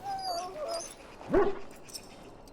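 A sick dog in the video game Dragon Age: Origins whimpers softly, with thin high whines followed by one brief louder yelp-like whimper, faint and alone.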